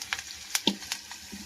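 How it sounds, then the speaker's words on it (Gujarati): Carrots tossed into a hot oil tempering with cumin and asafoetida, giving a faint sizzle broken by several sharp crackles and pops over a short stretch, close and quiet. "હવે આ વઘાર નાખ્યા ગાજર."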